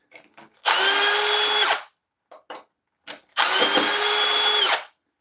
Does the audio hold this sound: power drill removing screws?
yes